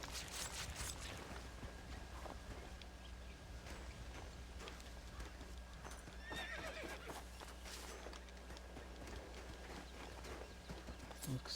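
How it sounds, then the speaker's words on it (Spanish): Horse in the Red Dead Redemption video game on PS4, hooves clip-clopping in a steady rhythm alongside a whinny and game background ambience, fairly quiet throughout. "Está el caballo."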